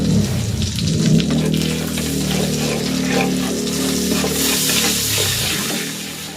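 Butter and sugar sizzling and caramelizing in a pan while glazing ham, a steady close frying hiss with soft bubbling and occasional stirring scrapes, continuous throughout.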